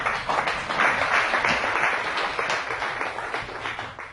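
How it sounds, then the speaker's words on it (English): Lecture audience giving a volunteer a round of applause as she comes up to the stage, a loud, full burst of clapping that peaks early and then gradually tapers off. "Give her a big round of applause."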